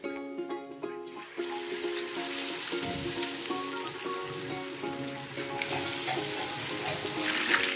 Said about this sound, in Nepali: आप देख रहे हैं कि ये चिकन अच्छे से फ्राई हो रहे हैं